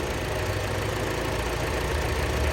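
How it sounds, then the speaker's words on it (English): An air conditioning compressor runs steadily with a cycling condenser fan on the high side, giving a continuous low mechanical hum and broadband whir at an even level with no pauses. "The compressor is running."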